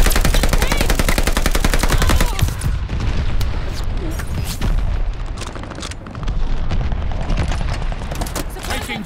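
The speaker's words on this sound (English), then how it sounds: "They're sending mortar shells." Mortar shells and gunfire in the video game Call of Duty: Vanguard multiplayer: rapid machine-gun bursts at first, then heavy booming explosions and scattered shots, loud and close throughout.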